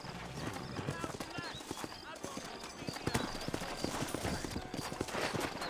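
Horse hooves clip-clop steadily in Red Dead Redemption as riders move through a Western town in New Ulster, a near rhythmic trotting under talking voices, with an occasional whinny.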